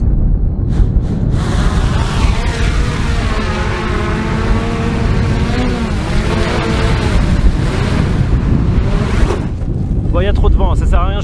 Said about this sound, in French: il y a trop de vent, ça sert à rien, je vais perdre le drone